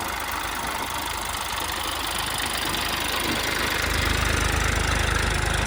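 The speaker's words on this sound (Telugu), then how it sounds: "రెండు భారీ హెవీ మోటార్లు అయితే పెట్టారు" Two heavy motors pump water at a construction site in Amaravati, giving a steady, loud mechanical drone that thickens slightly toward the end, with no talking.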